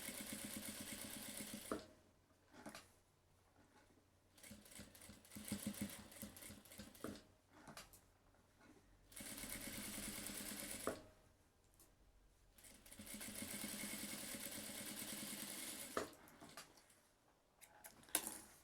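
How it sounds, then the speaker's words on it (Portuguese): Sewing machine stitching a seam all the way around a laptop bag, running in several bursts of steady rapid whirring separated by short pauses, close and moderately loud with no talking. "E aí aqui eu vou fazer uma costura em toda a volta. Aqui pode ser uma costura de pé de máquina."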